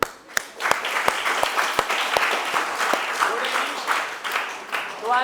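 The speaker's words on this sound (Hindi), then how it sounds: "ताली बजाएं।" An audience at a school debate prize announcement bursts into sustained applause, dense and fairly close, starting with a few sharp claps and holding steady for several seconds.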